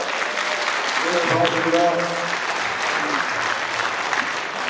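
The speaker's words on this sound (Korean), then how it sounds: "함진규 당협위원장님께 큰 박수 부탁드리겠습니다" An audience at a party members' education session claps for a local party committee chairman, a steady wash of applause with a voice speaking over it partway through.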